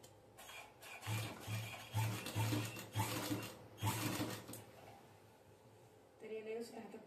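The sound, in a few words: sewing machine stitching cushion cover chain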